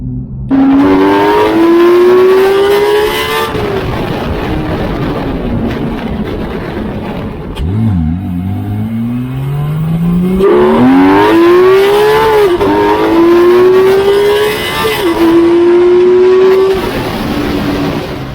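A 2018 Porsche 911 GT3 (991.2) engine revs hard and climbs through gears, dropping briefly between shifts, loud and close with a rising, snarling pitch.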